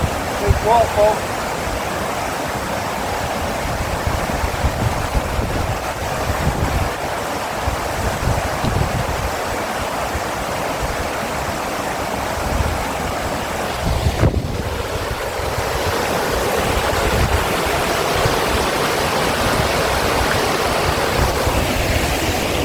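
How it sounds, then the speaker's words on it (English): A big waterfall on the Isle of Mull rushes in a steady broadband roar, partly masked by buffeting wind on the microphone, with a person talking briefly nearby. "Big waterfall."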